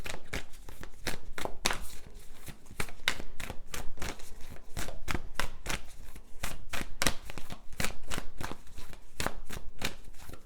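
A deck of tarot cards being shuffled, giving a dense run of crisp, rapid riffling clicks and flutters that carries on steadily for about ten seconds, close and fairly loud, with no talking.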